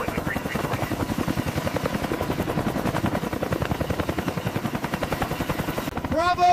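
A CH-53K King Stallion heavy-lift helicopter runs up close and loud, its rotor blades thumping in a fast, steady beat throughout. A voice speaks over the rotor noise near the end.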